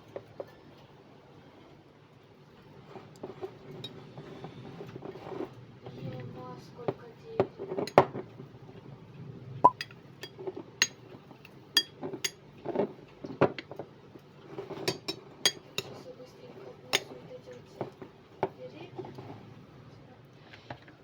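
Orange-sugar biscuits are spooned into the bottoms of glass dessert bowls and levelled for a no-bake citrus milk dessert, giving scattered light clinks and taps of utensil on glass and crumbly scraping over a quiet room background.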